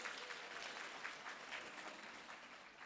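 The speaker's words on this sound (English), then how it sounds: "Can you please clap hands for teachers" Audience applause for teachers at a World Teacher's Day event, a continuous, moderately distant wash of many hands clapping with no voices on top.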